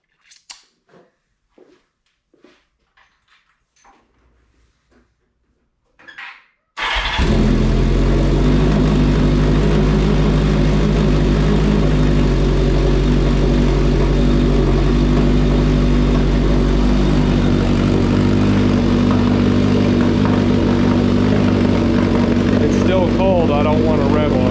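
A Kawasaki KZ650 motorcycle with a Delkevic exhaust starting up cold and idling, a loud steady deep burble that runs on without revving after a few faint clicks and taps.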